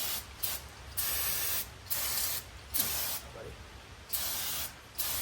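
An aerosol can sprays brake parts on a Mercedes C300, hissing in a series of short and longer sprays, loud and close, with brief quiet gaps between bursts.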